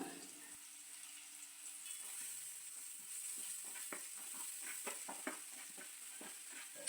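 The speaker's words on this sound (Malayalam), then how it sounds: "ഇനി ഇതേ പാനിലേക്ക് കുറച്ച് വെളിച്ചെണ്ണ കൂടി ഒഴിച്ച് ഒരു സ്പൂൺ ഇഞ്ചിയും ഒരു സ്പൂൺ വെളുത്തുള്ളിയും ചേർത്ത് ഇളക്കിയതിന് ശേഷം മൂപ്പിച്ചെടുക്കാം" Ginger and garlic fry in coconut oil in a pan with a soft, steady sizzle and light stirring clicks, quiet and close, with no voices.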